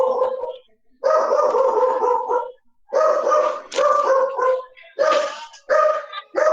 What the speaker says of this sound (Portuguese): o galo que cantou, foi o cachorro que tá cantando aí